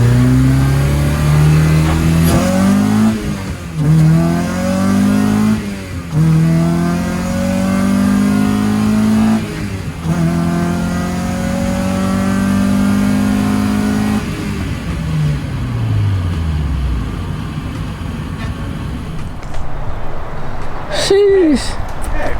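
A Honda Civic's engine revs up through several gears in repeated rising pulls, loud and close from inside the car, then winds down. People talk over the engine noise.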